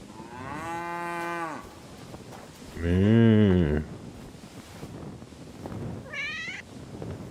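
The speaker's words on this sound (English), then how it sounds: "I hear a cat." In Kingdom Come Deliverance 2, a brief, high cat meow sounds near the end, after two long, deep cattle moos in a rural village setting.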